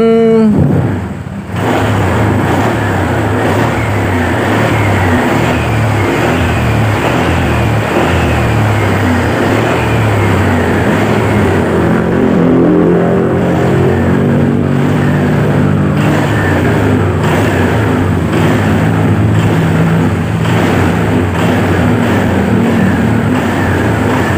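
A Honda Vario 125 fi scooter that had been hard to start when cold is started and left idling, a steady, loud, close engine hum with a slight rise and fall, with no talk.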